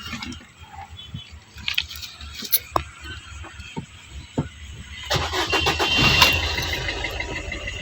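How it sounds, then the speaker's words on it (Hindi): A car engine cranks and starts after a cleared check-engine fault code, the early part marked by scattered mechanical clicks and knocks, then a louder sustained whirring surge as it catches and runs near the microphone. "अभी गाड़ी को स्टार्ट मार के देखेंगे कि अभी चेक लाइट आ रहा है कि नहीं आ रहा है।"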